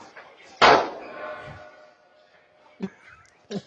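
Gunshots fired at a store's locked glass door during a robbery: one loud sharp report early, then two shorter, fainter bangs a few seconds apart, with ringing resonance after the first.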